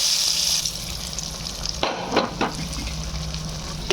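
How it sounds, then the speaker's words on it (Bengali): Spice tempering with a pinch of asafoetida sizzles and crackles loudly in hot oil over chana dal, a steady frying hiss with a few sharp pops and stirring clinks. "এবার আমি এসে ফোড়নটা দিয়ে দিলাম"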